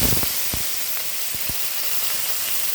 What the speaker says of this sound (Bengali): এবার আমরা মাছগুলোকে ভেজে নেব।